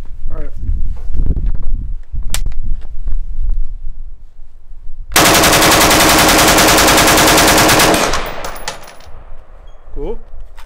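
A Steyr AUG rifle fires rapid automatic fire in a sustained burst of about three seconds, loud and close, with scattered clatter and movement around it.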